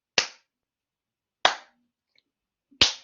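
Three single, sharp hand claps in a classroom demonstration of a clapping sequence, spaced evenly about a second and a half apart, crisp and close with silence between.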